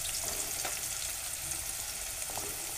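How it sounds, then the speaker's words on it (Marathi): Onion frying in a pan over a low gas flame for bitter gourd (karela) bhaji: a steady, dense sizzle with faint crackles, continuous and close, no voices. "आपण आता प्रथम कांदा टाकूया"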